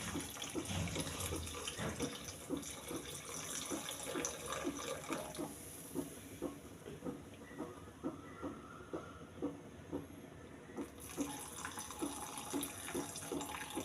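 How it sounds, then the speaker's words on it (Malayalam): Strained jaggery water poured into a cooking dish, a soft continuous trickle and splash heard faintly and close, with no voices. "അരിച്ചൊഴിക്കണം കേട്ടോ ശർക്കര നീര്."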